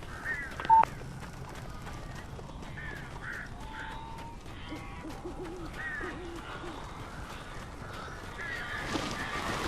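Crows caw and hoot repeatedly inside the video game Alan Wake Remastered, scattered harsh calls spread across a quiet, eerie background with a sharp click near the start.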